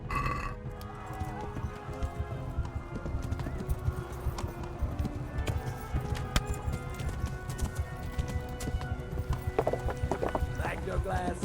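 Horse hooves galloping in the medieval video game Kingdom Come: Deliverance, a rapid, continuous clip-clop rhythm over a rumbling in-game soundscape, with someone talking over it throughout.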